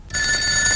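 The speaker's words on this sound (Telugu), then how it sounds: "ఆ ఫోన్ నాది. వచ్చే ఫోన్ నాకు వస్తుంది." A telephone bell rings in a Telugu comedy scene, starting abruptly after a brief silence and sounding loud, bright and continuous close by, with no talk over it.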